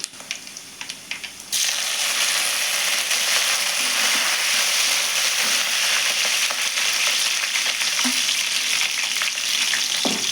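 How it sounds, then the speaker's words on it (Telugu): Dried red chillies and curry leaves hit hot oil for a tempering for a ridge gourd and egg curry, bursting into a loud, dense, continuous sizzle that crackles steadily up close after a quieter start. "ఒకటండి ఎండుమిర్చి చేస్తున్నాను, ఇంకొకటి వేస్తున్నానులే. కొద్దిగా కరివేపాకు వేస్తున్నాను"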